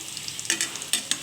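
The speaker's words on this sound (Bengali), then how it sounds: "বড়া মানেই কিন্তু জোর কমিয়ে কমিয়ে করতে হবে, তবে কিন্তু পুরোটা ভালো ভাজা হবে" Pumpkin, potato and pointed gourd fritters fry in oil, giving a soft brief sizzle broken by a few light clinks of a utensil.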